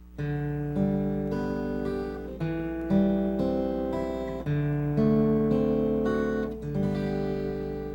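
Acoustic guitar plays a series of chords with a steady fingerpicked pattern, bass notes alternating under ringing upper strings, clear and close.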